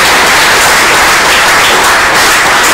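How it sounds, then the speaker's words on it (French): Loud, dense applause at a ceremony honouring an absent comrade, a continuous close wash of many hands clapping with no speech over it. "je vous demande d'applaudir"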